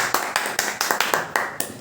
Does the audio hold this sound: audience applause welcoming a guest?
yes